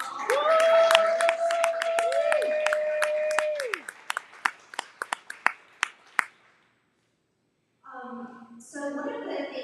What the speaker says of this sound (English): Can we give another lovely round of applause for all of our members?